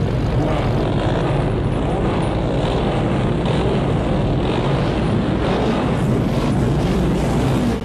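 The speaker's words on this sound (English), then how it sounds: "They do love to rev their engines," Vehicle engines roar continuously in a Mad Max II action scene, a loud, dense, unbroken engine drone throughout.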